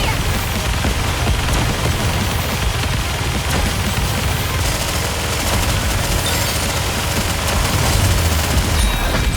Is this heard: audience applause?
no